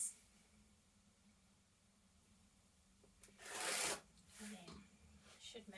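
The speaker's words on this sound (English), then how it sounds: "I always use a ruler rather than the grid on the cutting mat, just for accuracy. And I'm going to cut 2-inch strips, like so." A rotary cutter slices 2-inch quilt fabric strips against a ruler, making a quick close rasping swipe followed by a shorter, fainter one, after a quiet stretch.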